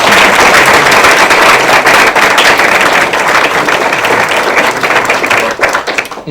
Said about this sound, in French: Je pense que ça mérite l'applaudissement.